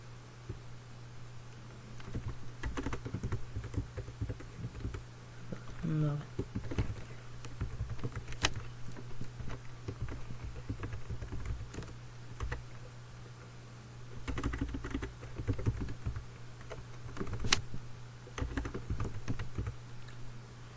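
Typing on a computer keyboard while entering text in Microsoft Word 2013, with a steady run of light, close key clicks over a low background hum and no talking.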